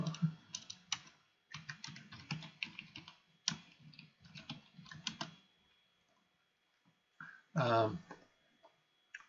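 Fingers type on a computer keyboard in quick bursts of clicky keystrokes, close and moderately loud, with short pauses between runs and a brief spoken remark near the end.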